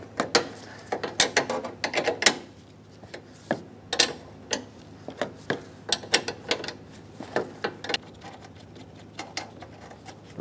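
A ratchet clicks in short, uneven bursts while loosening a 13mm mounting nut on the lower AC condenser line of a 2007-2014 Chevrolet Silverado 2500 HD, close and crisp with pauses between turns.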